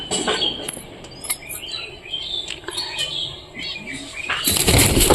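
Pet pigeons in a loft flapping their wings, several quick bursts of flutter close by mixed with soft chirps and shuffling, ending in a louder rush of wingbeats.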